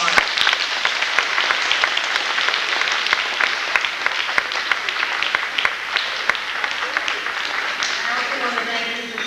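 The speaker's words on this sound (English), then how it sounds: "So please give them a round of applause." An audience claps steadily for fifth grade music students at a school awards ceremony. The applause is dense and sustained from start to finish, with many close, sharp claps.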